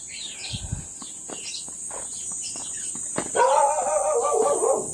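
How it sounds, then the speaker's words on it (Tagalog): An angry dog barks and growls several times at middle distance, with a sustained howling or whining stretch near the end over steady high-pitched insect or bird noise, outdoors while foraging jute leaves and bamboo shoots. "Galit yung aso."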